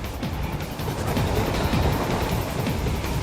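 Steady rumbling rush of a moving train in the Metal Gear video game, a continuous loud rolling noise with faint rhythmic clatter throughout.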